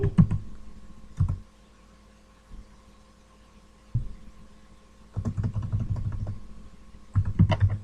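Typing on a computer keyboard comes in short bursts of close key clicks, separated by quiet pauses, with no voice.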